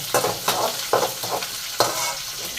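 Onions frying in a pan for a kofta curry, stirred with a spatula: a continuous close sizzle broken by several distinct scraping strokes at an uneven rhythm, with no talking.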